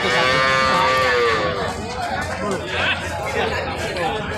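Bullocks at a busy pre-Eid cattle market in Panchbibi, lowing loudly and close at the start with long drawn moos, then fading into crowd chatter as people haggle over prices.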